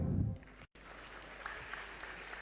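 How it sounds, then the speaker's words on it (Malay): A seminar audience at a mega motivational event in Kelantan claps, a thin, fairly faint patter of applause after a brief dropout, steady and distant throughout. "Tepuk tangan."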